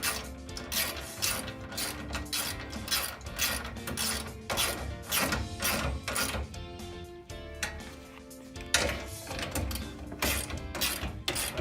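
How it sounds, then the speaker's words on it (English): A ratchet tightens carriage bolts on a fiberglass step rail, giving rapid, close clicking in repeated bursts that run almost nonstop throughout. "We can go through all 6 and tighten them up,"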